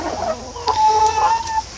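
Backyard hens out foraging on dandelions give close, loud clucks and short squawks in a quick, uneven chatter.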